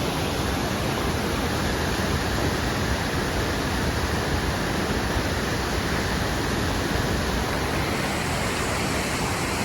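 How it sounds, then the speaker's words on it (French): Massive roar of the great waterfall at the Cirque de Gavarnie in the Pyrenees, a dense, steady broadband rush of falling water that stays loud and unbroken throughout with no voices. "la grande cascade."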